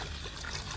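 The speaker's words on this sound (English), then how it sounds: "Pour some vinegar into a pitcher." Vinegar poured into a pitcher, a short, close, continuous splashing trickle of liquid with no talk.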